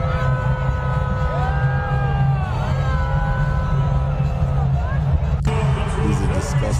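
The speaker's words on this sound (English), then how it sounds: "They booing the shit out of Trump" A large crowd roars and jeers steadily at a rally where Trump appears, a dense continuous wall of voices with shouts rising above it, while a speaker talks over the noise.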